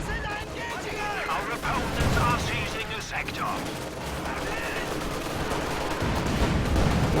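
Katyusha rocket artillery fires in a Company of Heroes 2 match, a steady clatter of overlapping launches and blasts mixed with other battlefield gunfire, with voices under the din throughout.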